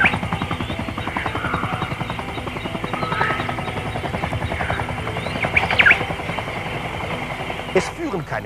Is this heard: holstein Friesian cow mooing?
no